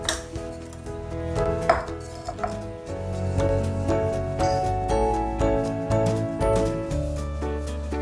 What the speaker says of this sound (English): Keep scooping and flattening until the mold is full.